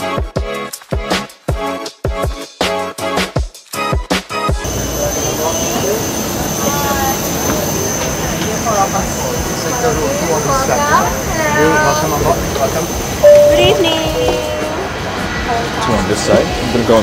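Airplane jet engines roar at Singapore airport, a loud continuous whine and rumble that swells up after a few seconds of close talking and then holds steady.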